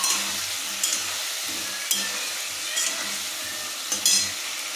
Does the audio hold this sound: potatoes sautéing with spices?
yes